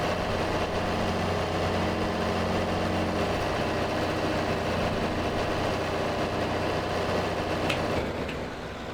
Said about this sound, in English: Fire up the PTO.